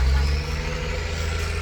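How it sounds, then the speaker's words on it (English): Low, steady rumble of passing road traffic, with a heavier vehicle drone at the start fading into a continuous street hum. "Sorry about that noise. I live on a busy street."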